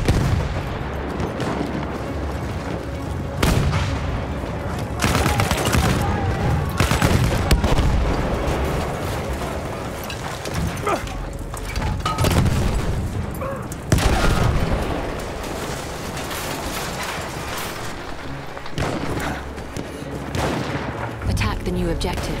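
Continuous wartime battle din in Battlefield 1: an artillery barrage with booming impacts and rolling blasts layered over steady rifle and machine-gun fire, loud and dense throughout, with occasional shouted voices.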